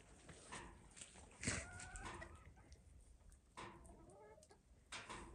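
Backyard hens, including young naked-neck birds, cluck and call in a farmyard, with several overlapping bursts from fairly close over a steady outdoor background.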